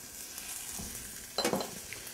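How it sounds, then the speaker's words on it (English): Golden raisins sizzle in a butter, ginger, jalapeno and garlic mixture, a soft bubbling fry that swells into a louder burst of crackle and stirring scrapes partway through. "I'm going to kind of let those caramelize in that butter, ginger, jalapeno, garlic mixture"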